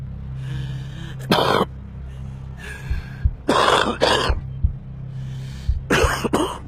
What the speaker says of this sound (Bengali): স্মোকার্স কফ, ধূমপায়ীর কাশি শুধু আপনার ফুসফুসের ক্ষতির লক্ষণ নয়,